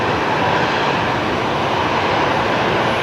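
Qantas airliner jet engines at Brisbane Airport give a steady, broadband roar that holds at an even level throughout, with no talking.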